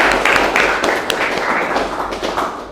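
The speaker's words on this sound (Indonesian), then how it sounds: "mari kita tepuk tangan dulu sekali lagi" Students in an automotive classroom lesson clap together in loud, continuous applause, with a dense wash of claps and a few sharper taps standing out across the whole stretch.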